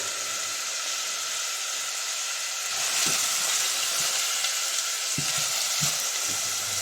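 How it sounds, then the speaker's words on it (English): Plenty of onions fry in a pan as the base for a homemade chicken tikka masala, a bright, steady sizzling hiss that grows a little louder partway through, with a few soft knocks and scrapes from stirring. "I'm going to just fry off my onions"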